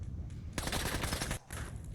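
Automatic gunfire in the video game Fallout 4 rattles out in a dense, rapid burst lasting nearly a second, then pauses briefly before more firing starts, all at moderate loudness with no talking.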